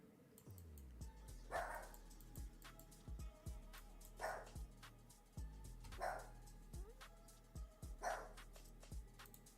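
A dog barks in the background in repeated pairs of deep, muffled woofs at a steady rhythm, somewhat distant and moderately loud over a low hum.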